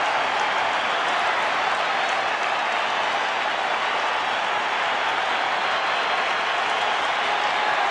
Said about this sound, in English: this big crowd on its feet